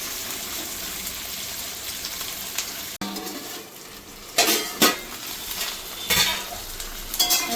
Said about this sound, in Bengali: এবার আমি দিয়ে দেবো মাটনটা।